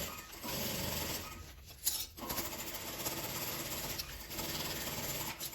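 A sewing machine runs steadily on a long stitch, setting 5, through a thermal bag, a continuous close mechanical whirr with a brief pause near the two-second mark before it resumes.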